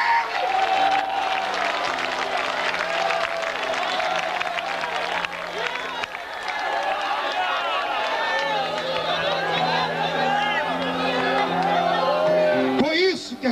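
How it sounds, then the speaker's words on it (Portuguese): A church congregation at a 1990s Pentecostal service fills the room with sustained applause and cheering, a dense crowd roar that runs on for many seconds with voices calling out through it. "Crente salvo, escuta um negócio desse, ele enche esse lugar de palmas."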